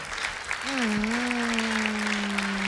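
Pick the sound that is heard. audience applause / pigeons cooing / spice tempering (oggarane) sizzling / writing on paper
audience applause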